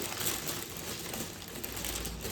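Plastic food packaging being torn open by hand after scissors failed, close crinkling and crackling that runs in quick irregular bursts, fairly quiet, with no talking.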